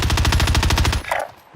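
A burst of rapid automatic gunfire in Warzone, a dozen or so evenly spaced loud shots over about a second, ending abruptly with a brief trailing echo.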